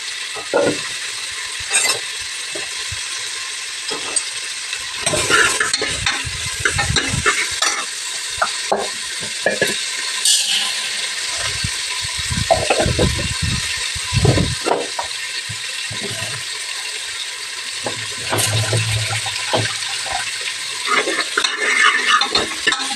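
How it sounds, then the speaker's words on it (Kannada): Chopped onion and tomato hit hot oil for drumstick sambar and are stirred, a loud continuous sizzle broken by repeated scraping and clattering strokes of a spoon against the pan. "ಇವಾಗ ಎಣ್ಣೆ ಕಾದಿದೆ ಕಟ್ ಮಾಡಿರೋಂಥ ಈರುಳ್ಳಿ ಮತ್ತು ಟೊಮೊಟೊನ ಹಾಕೊಳ್ತಿದ್ದೀನಿ"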